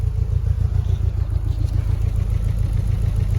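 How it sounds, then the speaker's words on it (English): Pontiac Fiero with a Quad 4 engine on solid mounts, running with a rough, steady low rumble and a throbbing pulse, close and loud with no talking. "the Quad 4 was known as being quite a harsh noise, vibration, and harshness motor, and oh my god, is it living up to it."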